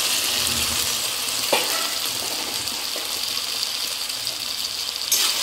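Boiled, lightly salted potatoes sizzle and crackle as they are stir-fried in a hot pan for a Bengali white potato curry, with a steady broadband frying hiss and a few scraping stirs, close and fairly loud, no talking.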